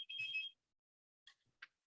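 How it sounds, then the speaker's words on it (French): A telephone rings with one bright electronic trill lasting about half a second, followed by silence and a couple of brief, fainter beeps. "je pense que je vais répondre au téléphone"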